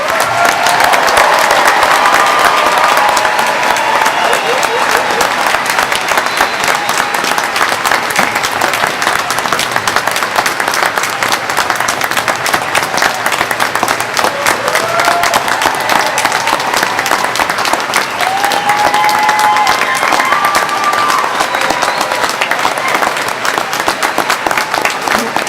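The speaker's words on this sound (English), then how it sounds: "Please join me in giving all our graduates a well-deserved round of applause." A graduation ceremony audience applauds the winter quarter graduates, loud and dense clapping that holds steady throughout.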